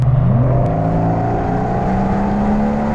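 A widebody Rolls-Royce Cullinan Black Badge with over 700 hp launches hard off the line, its engine roaring loudly and climbing steadily in pitch through a shift, with no talking.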